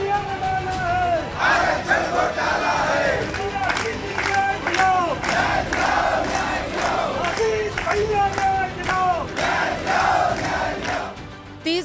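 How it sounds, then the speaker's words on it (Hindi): A crowd of protesting OBC teacher candidates chants slogans outside a Uttar Pradesh minister's house, their loud rhythmic shouts rising and falling in repeated waves with scattered claps for the full stretch. "नारेबाजी कर रही है"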